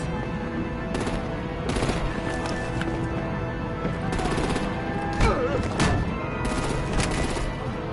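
Artillery fire in a Batman game episode: bursts of rapid gunfire and heavy shots crackle through a dense, loud action mix, repeating in clusters over continuous rumble and effects.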